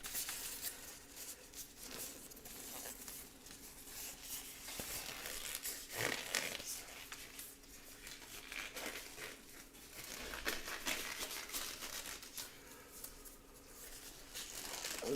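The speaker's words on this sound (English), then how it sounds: "Let me get these gloves on" Protective gloves are pulled on with continuous crinkling and rustling, close and moderately loud, with small bursts of crumpling and no talk.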